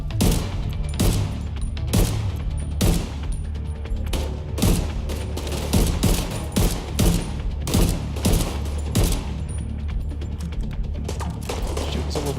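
Rapid automatic gunfire from The Division 2 shooter game at a hotel mission, repeated loud bursts crackling one after another with mechanical clatter between them. No voices.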